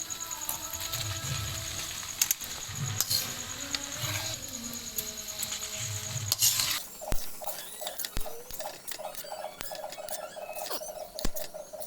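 Noodles tossed into a hot pan and stirred, with a busy scraping, rustling texture and a run of quick, evenly spaced clicks toward the end.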